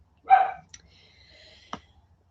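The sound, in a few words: dogs barking indoors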